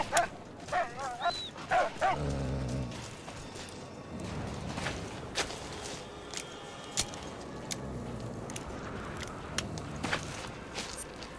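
Dog in the Mad Max video game barking and whimpering in a few short bursts, with footsteps and a light jangle over a low game ambience.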